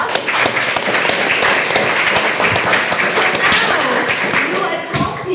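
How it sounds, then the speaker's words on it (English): Loud, dense applause from an audience at a summer public forum, continuous clapping filling the room for several seconds with a few scattered cheers. "Give yourself a round of applause."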